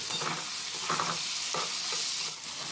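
Continuous hissing sizzle of ridge gourd frying in a pan, with soft scraping as it is stirred, close and steady with no voices.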